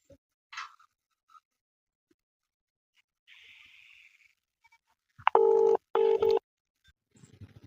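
Telephone keypad tones beep near the end of a quiet stretch as a number is dialed for a call, two sustained tones following a few faint clicks and taps.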